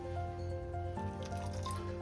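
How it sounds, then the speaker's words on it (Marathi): A little water trickled into a grinder jar holding coconut chutney, soft close dripping and liquid sounds over a steady hum, with no talk. "थोडंसं पाणी टाकायचं आणि पुन्हा एकदा फिरवून घेऊया"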